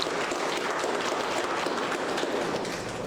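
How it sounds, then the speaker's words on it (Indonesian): An audience at a university youth seminar on following rules claps together, a continuous even wash of applause lasting a few seconds, fairly loud and close. "Tepuk tangan untuk semua yang ada di sini."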